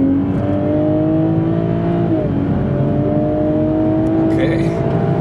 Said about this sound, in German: Gehen wir mal Vollgas hier.